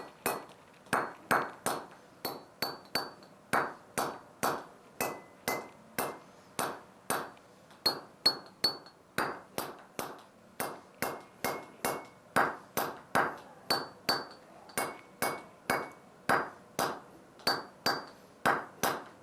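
Steel hammer striking feather-and-wedge sets driven into drilled holes in granite, splitting stone for a historic New Hampshire stone wall; a slow, steady series of sharp ringing metallic pings, about two per second, close and clear with no talk.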